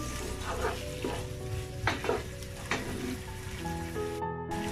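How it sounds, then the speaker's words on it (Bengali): Spices fry and sizzle in a pan while being stirred for fish-head mashkalai dal, a continuous close crackle with several soft scraping strokes of a spoon, fairly quiet, with no voices. "একটু নেড়ে দিচ্ছি মশলাগুলো।"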